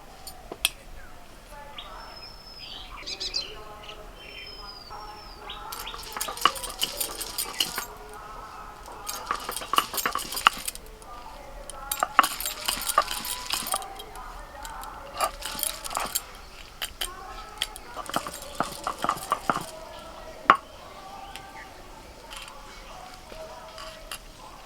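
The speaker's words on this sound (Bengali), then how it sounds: "একটা ভাগ মোচা বেটে নেব।" Boiled banana flower (mocha) being ground into a mash, heard as bursts of scraping and clinking grinding strokes in the middle of the clip, with birds chirping in the background.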